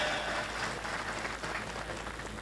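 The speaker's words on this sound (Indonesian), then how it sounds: "tepuk tangan untuk kita semuanya" An audience applauds at an evening Haul Pancasila gathering, a steady, fairly faint wash of clapping that continues evenly throughout.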